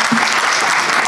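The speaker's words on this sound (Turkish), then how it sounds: "Bir alkış alalım." An audience at an education-support gala claps, a brief loud dense burst of applause.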